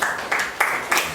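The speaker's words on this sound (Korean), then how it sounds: "박수도 쳐주시고." An audience at a political party public hearing claps in brief bursts, roughly four or five rhythmic swells of applause within about a second, moderately loud and with no talking.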